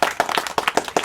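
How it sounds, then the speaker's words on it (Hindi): A group of village children clap for themselves, with quick, irregular bursts of hand claps close by, a few hands slightly out of step. "ताली बजाओ अपने लिए, जो स्कूल जाते"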